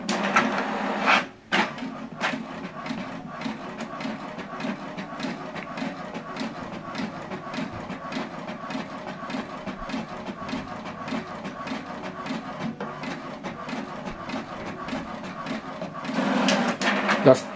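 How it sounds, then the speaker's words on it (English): An HP printer prints a document with a steady mechanical whir and rapid ticking of gears, continuous at moderate volume, with a brief clunk early on and a louder feed motion near the end. "Now I'm printing it from my inbox."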